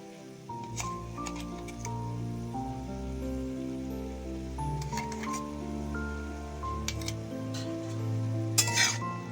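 Pumpkin greens stems fry in a pan as mustard paste is stirred through, a soft continuous sizzle with light scraping of the spatula, mostly buried under steady background music.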